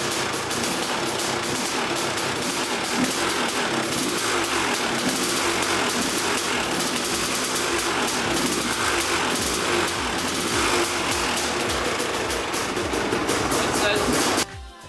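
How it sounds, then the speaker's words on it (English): A freshly rebuilt Honda CR250 two-stroke motorcycle engine running continuously and loudly, with a rough rattling drone close by until it cuts off at the end. "All right, so we got this bike fired up."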